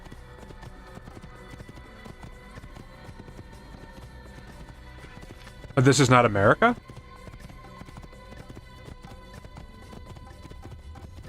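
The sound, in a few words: horse hooves clip-clopping while riding, Assassin's Creed video game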